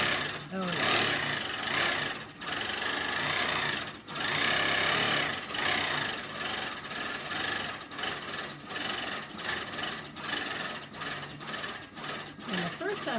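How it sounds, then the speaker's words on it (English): A longarm quilting machine with ProStitcher automation stitches a quilt label, giving a steady close mechanical whir with a rapid needle rhythm and a few brief pauses, and a voice talks over it. "I'm going to hit record, and we're just going to start stitching."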